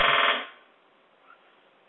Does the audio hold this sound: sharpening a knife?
no